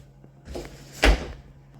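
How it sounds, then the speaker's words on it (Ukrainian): An apartment's sliding door rolls along its track with a short scraping glide, then bumps shut with a single close, loud thud. "Також двері роздвижні"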